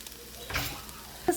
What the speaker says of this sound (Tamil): நூடுல்ஸ் போட்டு கலந்து விட்டுக்கோங்க